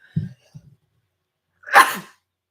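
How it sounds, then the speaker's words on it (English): A single loud sneeze bursts out after a few soft low murmurs, close and sharp, then quiet. "I got to sneeze"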